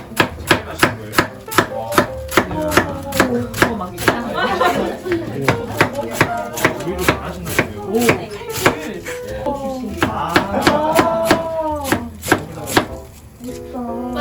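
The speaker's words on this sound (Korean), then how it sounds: "칼질이 나왔습니다" A kitchen knife chops food on a cutting board in a fast, steady stream of crisp knocks, while people chat quietly in the background.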